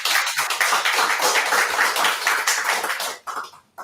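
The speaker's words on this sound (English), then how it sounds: "That's your applause." Scattered online audience clapping at the close of a spirits tasting, a dense patter of hands that drops off near the end, with a couple of brief taps.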